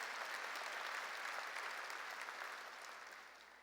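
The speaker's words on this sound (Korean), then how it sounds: "박수로 하나님께 영광 돌리라는 거예요" A church congregation claps together during a Korean worship service, a dense, steady wash of applause that stays full and even before easing off slightly at the end, with no talking over it.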